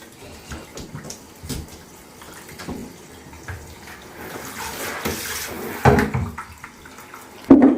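Water from a shower runs and splashes in a bathroom, a steady wash of sound that swells and surges toward the end, with clattering handling noises and brief voices around it.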